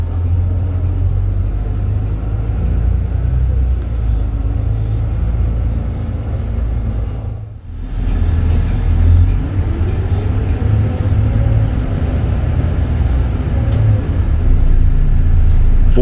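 Volvo B8RLE bus with Bustech VST body, heard from inside as it departs: a loud, steady low engine rumble with a brief dip mid-way, then a slow rising drivetrain whine as the bus picks up speed.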